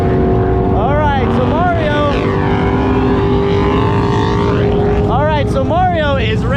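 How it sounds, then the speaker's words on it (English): Race cars roar through a loud, continuous pass at Rocky Mountain Raceweek, engine notes climbing and falling in repeated sweeping whines over a steady drone, with a crowd-like wash throughout. "so Mario is racing George"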